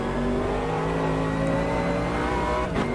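A GT3 race car in Automobilista 2 accelerates around the Bathurst circuit, its engine a loud, steady, rising drone with a brief gear-shift dip near the end, alone without talk.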